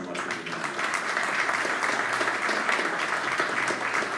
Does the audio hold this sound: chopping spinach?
no